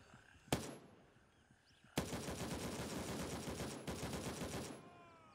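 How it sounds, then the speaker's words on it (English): Video game gunfire from a shooter mission against bots, with a single sharp shot followed by a sustained rapid burst of automatic fire that briefly pauses and resumes, loud and close. "Shoot some bots in a spot of bother here."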